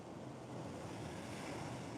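Ocean waves wash steadily on big open water, a continuous soft surf rush mixed with wind, fairly faint and with no voices.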